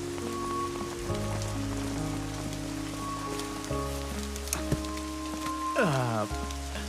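Steady rain falling outdoors in a dubbed drama scene, a continuous soft hiss layered beneath sustained orchestral music tones, with a brief sweeping glide near the end and no talking.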